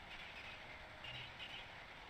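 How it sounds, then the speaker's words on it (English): A train in the video game Final Fantasy 8 rumbles along with a steady, faint, continuous wash of rolling noise and no distinct clacks. "Stop the train!"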